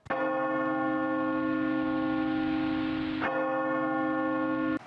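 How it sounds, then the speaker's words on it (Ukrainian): A loud alarm bell strikes twice as a radiation hazard alert, each blow ringing out in a long, sustained metallic tone, close by with no voices. "Дзвін в набат це сигнал радіаційної небезпеки."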